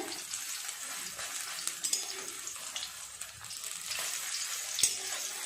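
Bora fritters frying in oil in a pan, a steady soft sizzle and crackle with occasional small pops, fairly faint and without speech.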